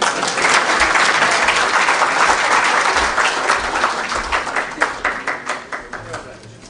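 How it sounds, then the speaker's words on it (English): Audience applauding guests at a Kenyan political rally with Raila, steady dense clapping that thins and fades toward the end, with voices mixed in. "Another round of applause for our guests this afternoon."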